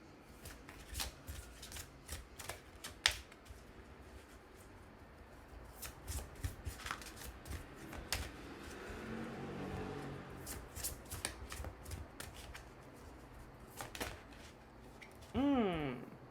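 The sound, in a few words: tarot cards being shuffled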